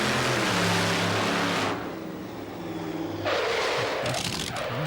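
Hot rod drag racing at Summernats, a loud roaring engine run with a steady high-revving tone that drops away partway, then surges back as another heavy blast of engine noise close by.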